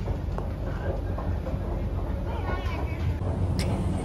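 A Kolkata metro train runs through India's first underwater tunnel, its steady loud rumble and rolling rail noise filling the car with a faint squeal near the end and no clear talk.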